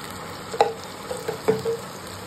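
Onions fry with turmeric in a pan, a soft steady sizzle punctuated by a few sharp clinks and scrapes of a spatula, close by and with no talking.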